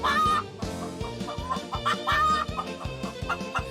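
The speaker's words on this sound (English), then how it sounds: "They were so loud that Rabbi Hanina was disturbed by their clucking" Chickens cluck repeatedly in short bursts, fairly close and lively, over a steady low background.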